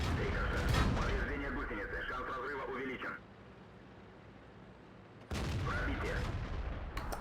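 Tank gunfire in a video game replay, rumbling shots and battle noise with the player talking over it; the noise drops out briefly in the middle before returning.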